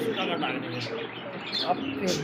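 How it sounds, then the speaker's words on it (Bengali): Almond Arabian Koka pigeons coo softly in a series of low, throaty calls, close by, with someone talking over them the whole time. "অ্যালমন্ড আপনি অ্যারাবিয়ান কোকা কবুতর দেখছেন"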